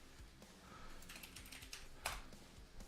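Typing on a computer keyboard: a quick, irregular run of light key clicks up close, with one sharper keystroke standing out near the end, under a faint background hum.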